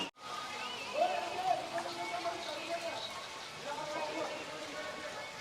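The Gaumukh spring at Chittorgarh Fort in Rajasthan, a natural stream falling continuously onto a Shiva lingam: a steady, close splashing and patter of falling water with faint background murmur.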